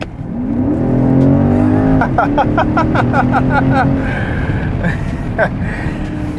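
A 2022 BMW X6 M50i in Sport Plus mode roars hard under acceleration, engine pitch climbing steadily with brief shift crackles, loud and close inside the cabin, with talk over it.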